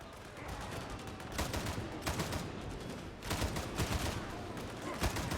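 Rapid bursts of gunfire in the Warhammer 40,000: Darktide video game, loud and dense, with volleys clustering around several sharp surges over steady battle noise.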